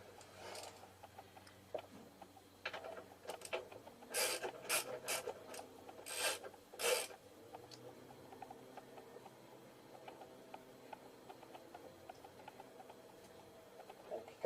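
A ratchet clicks in short rapid bursts while tightening bolts on Harley-Davidson XG 750 shocks, with quieter scraping and handling noises between the bursts, fairly close but soft overall.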